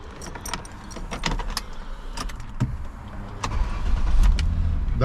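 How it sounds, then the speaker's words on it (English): A 2005 Jaguar saloon being started: keys rattle in the ignition, then the engine cranks and catches into a smooth idle, close and fairly loud. "Let's just fire it on again."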